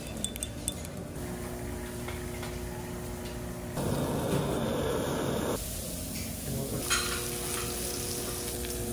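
Egg and soy sauce mixed and fried in a pan in Osaka, Japan, a steady close sizzle that swells louder for a moment midway, with faint ticking clicks over it.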